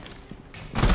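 Rapid automatic gunfire in the video game Rainbow Six Siege during ranked play, a dense loud burst that swells toward the end of the brief moment with no speech over it.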